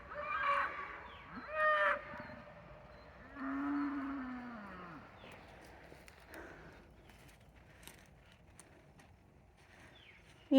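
A bull and cows mooing in a field, several long bellowing calls in the first few seconds, one deep and drawn out, then fainter outdoor ambience.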